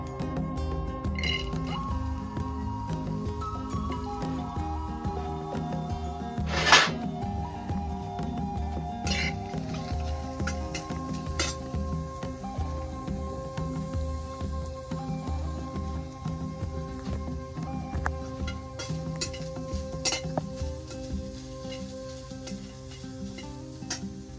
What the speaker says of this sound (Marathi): आता कांदा टाकता येते